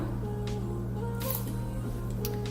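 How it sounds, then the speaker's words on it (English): MAC Prep and Prime setting spray misted onto a small flat makeup brush: three brief, sharp hissing spritzes spaced about a second apart over a quiet, humming room. "I'm taking this little flat brush and spraying it with my MAC Prep and Prime"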